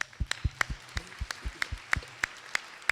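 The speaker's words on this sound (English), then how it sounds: "So let's give them an applause." A pageant audience gives scattered applause, a thin, sparse run of individual claps at an uneven rhythm, fairly faint and somewhat distant.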